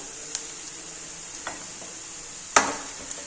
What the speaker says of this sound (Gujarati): બધું પ્રોપર રીતે મિક્સ કરી અને આપણે થોડું એવું સાતળી લેવાનું છે